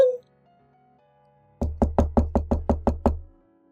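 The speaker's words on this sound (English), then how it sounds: "I heard the entrance doorbell ring, and the sound of knocking." An entrance door: a short doorbell chime sounds first, then after a brief quiet gap come eight evenly spaced, sharp, resonant knocks close by.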